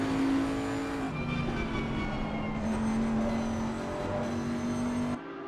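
Ferrari 961 race car pulling out of the pit lane in a racing video game at Laguna Seca, a steady droning engine note holding pitch with a couple of gear shifts, loud and close with no talk.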